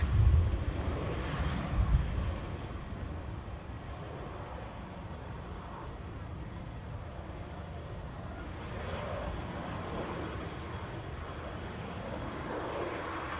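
An Airbus A320 arriving from Barcelona at Manchester Airport gives a broad, steady jet roar that hangs at moderate distance through the whole stretch, with no one talking over it.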